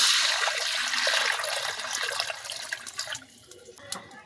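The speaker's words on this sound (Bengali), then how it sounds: "কড়ার মধ্যে দিয়ে দিচ্ছি জল" Water is poured into a cooking pan (kadai) while pickle is prepared: a loud, steady splashing pour that tapers into scattered drips and small splashes near the end, with no talking.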